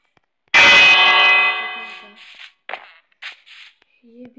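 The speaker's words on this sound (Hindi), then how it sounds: "छोड़ ये शायद नहीं टूटता होगा, ये तो घंटी है" A bell in Minecraft struck once with a loud, ringing clang that decays over about a second and a half, followed by brief soft game sounds and quiet tones.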